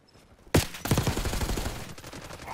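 Rapid automatic gunfire in Call of Duty Black Ops 6, a sudden loud burst after a quiet moment followed by a continuous stream of close shots until the end, with no talk.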